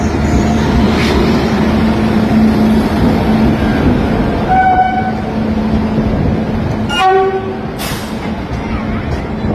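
A train rumbles steadily through a station on the Dharmavaram to Dindigul route, with short horn toots around the middle and near the end of the passage.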